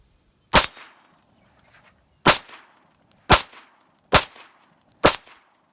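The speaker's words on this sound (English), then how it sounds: "I'm going to be shooting both of the Federals, 5 rounds of the punch and 5 rounds of the blue box." Five sharp, separate gunshots from an XD9 pistol fitted with a .22 LR conversion kit firing Federal Punch rounds, spaced unevenly about a second apart, each a crisp close crack with a short decay and no talk.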